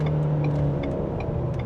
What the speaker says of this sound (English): we're gonna pull out and go a little full throttle here